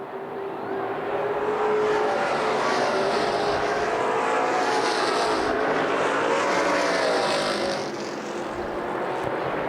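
Street stock race cars roar past at Lucas Oil Raceway in Indianapolis, a dense, steady engine drone from several cars swelling and fading slightly as the pack circulates, loud and continuous with no talk.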